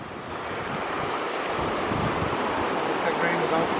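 Rushing water roars steadily as a broad, loud wash of noise, with wind buffeting the microphone and no clear speech.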